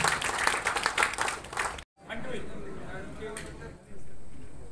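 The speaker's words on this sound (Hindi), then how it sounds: "जोरदार तालियों से स्वागत सर का।" A brief burst of crowd clapping welcomes a guest at the annual meeting of a state amateur kayaking and canoeing association. It cuts off abruptly and gives way to quieter room sound with voices.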